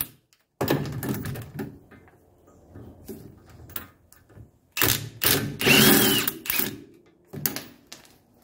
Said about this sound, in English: This is just a 5mm Allen to get the spindle nut off.